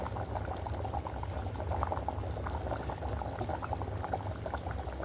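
Curry simmering in a pot until the oil rises to the top: a soft, continuous bubbling and gentle popping that holds steady and fairly quiet throughout, with no talking.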